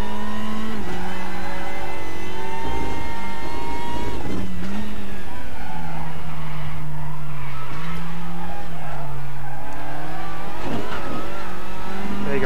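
A simulated race car engine laps Motorland Aragon in the RaceRoom Racing Experience game, its loud, close note climbing and dropping through gear changes, with braking and brief tire squeal.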